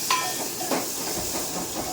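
Finely chopped tomato hisses and sizzles in hot oil with turmeric, a steady steam-like hiss with a couple of brief louder spits near the start.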